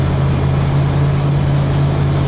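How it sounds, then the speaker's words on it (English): Steady low exhaust drone from a vehicle driving with its windows open, a constant rumble filling the cabin with no talking over it. "You can really hear the exhaust because I have to have the windows open."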